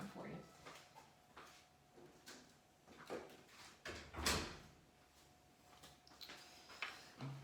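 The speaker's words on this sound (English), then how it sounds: "Let me close this door." A door is pulled shut indoors during a home algebra lesson, giving a short thud among a few lighter knocks while a person talks throughout.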